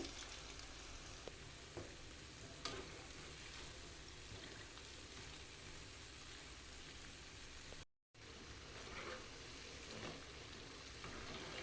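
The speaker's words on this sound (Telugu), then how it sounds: "పునుకులు వేసుకొని చక్కగా ఎర్రగా గోల్డెన్ కలర్ వచ్చే వరకు కాల్చుకోవాలి" Punugulu, fritters made from idli batter, deep-frying in hot oil, a continuous close hiss and crackle like light rain, steady throughout with one brief dropout.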